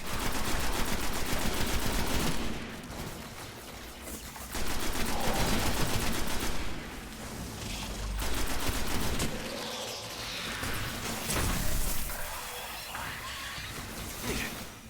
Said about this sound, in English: Just ignore my terrible shooting here.